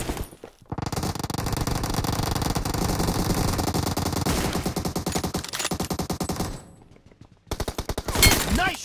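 Rapid automatic gunfire from PUBG Mobile, played on an iPhone 13 Pro, fills most of the stretch in loud, dense bursts, then drops briefly before a final burst of shots.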